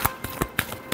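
Tarot cards being shuffled in short bursts, five or six crisp riffling snaps spaced a fraction of a second apart, close and fairly quiet with no voices.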